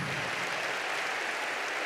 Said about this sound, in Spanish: Dale tu mejor ofrenda de aplausos.